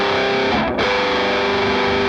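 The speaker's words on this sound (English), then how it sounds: "So now put that together with a power chord." A distorted electric guitar rings out a sustained power chord with a brief shift in the middle, loud, close and alone.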